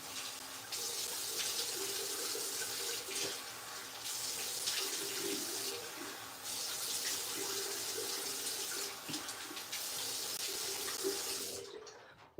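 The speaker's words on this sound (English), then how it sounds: "I'm going to rinse my face" A bathroom tap runs steadily into a sink while someone rinses cleanser off their face, the flow broken by brief splashy dips and pauses before it shuts off near the end.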